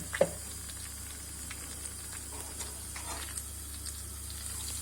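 Sauteed shrimp with red pepper flakes simmering in a pan on a home kitchen stove, giving a faint, steady sizzle with a sharp clink at the start and soft scattered ticks throughout.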